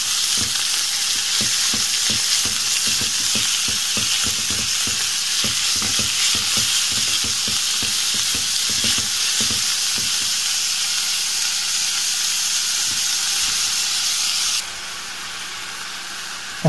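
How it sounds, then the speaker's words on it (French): Minced meat sizzles and fries loudly in a pan while being stirred, a constant hissing crackle with repeated scraping stir strokes, the stirring stopping near the end as the sizzle continues. "on va venir rajouter notre viande hachée. On mélange."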